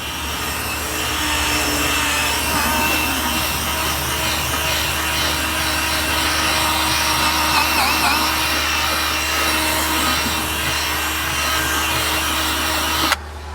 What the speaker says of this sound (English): I'm using a Milwaukee drill brush 90 degree with a white bristle brush for the kind of like the agitation